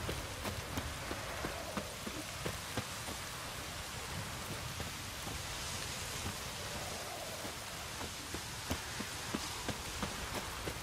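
Steady rain in the video game The Witcher 3, a soft, even hiss of falling water broken by scattered, sharper droplet taps, continuous and unaccompanied throughout.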